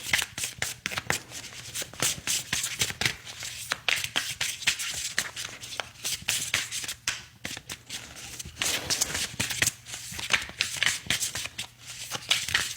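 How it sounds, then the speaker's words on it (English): Slick tarot cards are shuffled repeatedly in quick, smooth riffling bursts, close and crisp, with soft taps between shuffles and no talking. "I love how slick these cards are, and the shuffle is so smooth"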